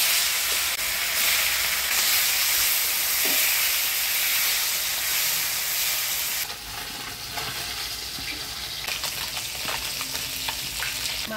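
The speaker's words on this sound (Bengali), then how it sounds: "ডাল নামিয়ে নিলাম, এবার মাছগুলা ভেজে নিব।" Fish such as taki, shing and small puti frying in hot oil, with a loud, steady crackling sizzle that runs for most of the clip and eases a little partway through, broken by stirring and scraping.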